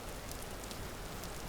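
Steady rain falling in the video game Vintage Story, a dense, even hiss of drops that stays constant and fairly close throughout, with no voices.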